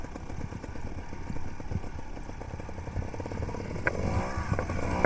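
A trials motorcycle engine running at a rally, a continuous mid-pitched putter with small surges and rev changes and no speech.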